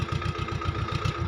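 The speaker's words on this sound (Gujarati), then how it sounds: "વરિયાળી ચોખ્ખી કરવામાં મિની ટ્રેક્ટર મદદરૂપ થાય છે" A mini tractor used for cleaning fennel on a Gujarat farm runs at an even idle, its engine throbbing in a quick, regular chugging rhythm, close and steady with no talk.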